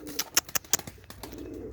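A pigeon or dove gives a few sharp, close calls in a quick irregular burst, then falls quiet as faint background noise remains.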